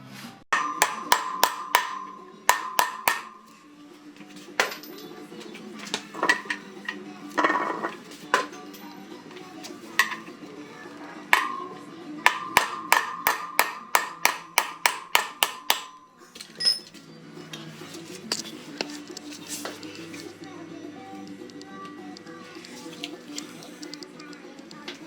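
A socket is tapped with a hammer to seat a wheel bearing on a KLR 650 motorcycle, making repeated sharp metallic ringing taps in quick runs separated by pauses, with some quiet talk in between.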